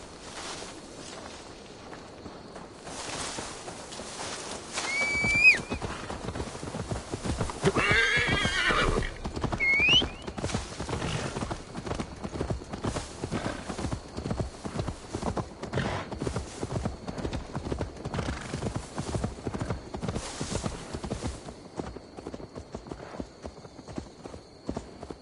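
A horse in the video game Assassin's Creed Valhalla trots with a steady, close clip-clop of hooves, and a couple of loud neighs and whinnies rise early in the sequence.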